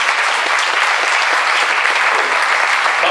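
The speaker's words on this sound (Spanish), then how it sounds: "Dale un fuerte aplauso a esta palabra." A congregation at a Catholic Charismatic Renewal gathering breaks into loud, close applause after a scripture reading, a thick, unbroken wash of many hands clapping with no talk over it.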